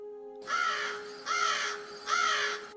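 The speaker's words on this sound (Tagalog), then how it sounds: "biglang nagliparan ang mga ibon na mga nakadapo sa puno" Three loud, harsh crow caws ring out at an even pace, close and clear over a faint steady hum, as birds take off from a tree.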